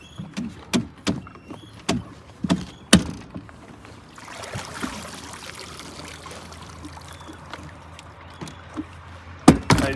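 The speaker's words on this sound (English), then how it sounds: "I'll pull the trolling motor up." A trolling motor on a Phoenix bass boat is raised: a series of sharp clicks and knocks is followed by a few seconds of whirring, rushing mechanical noise, then another pair of close clacks.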